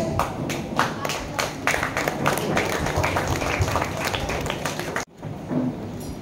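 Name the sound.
applause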